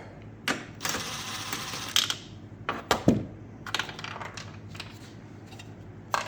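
The last strut tower nut comes off a 2017 Kia Soul during front strut removal, with close, intermittent ratcheting clicks and sharp metallic clinks from tools and hardware. Quiet pauses fall between the bursts.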